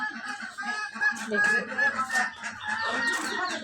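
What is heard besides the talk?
birds (chickens, geese) walking around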